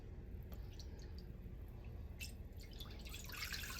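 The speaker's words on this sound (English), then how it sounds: "I'm going to pour it straight into my pan." Vegetable broth is poured into a pan for vegan mac and cheese, a faint steady liquid stream with small drips and splashes, growing a little brighter toward the end, with no talking.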